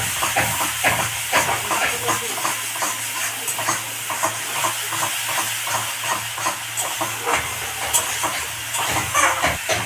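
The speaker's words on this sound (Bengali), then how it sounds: "একটু আমি মশলাটাকে ভালো করে কষে নেব।" Spices and tamarind sizzling and hissing in a frying pan for a katla fish curry, a loud steady sizzle broken by repeated scraping stirs, with no talking.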